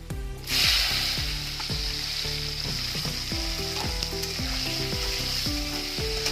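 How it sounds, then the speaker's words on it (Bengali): Okra frying in hot oil in a pan, a steady close sizzle that starts abruptly and holds throughout, with occasional stirring scrapes against the pan. "ভেন্ডিগুলো ভালো করে ভেজে নেবো।"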